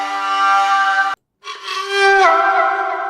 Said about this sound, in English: that string sound you hear is also Omnisphere.